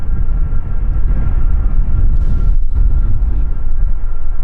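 Boeing 747 taking off from runway 09 at Amsterdam Schiphol Airport: a loud, sustained low engine roar rumbling steadily throughout, with no talking.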